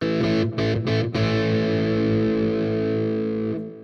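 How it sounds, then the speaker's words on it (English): A distorted electric guitar plays through a Plexi-style solo amp simulation preset in Cubase, with a few choppy strummed chords and then one long sustained chord fading out, loud and alone. "let's try a Plexi 5 solo, see what that sounds like"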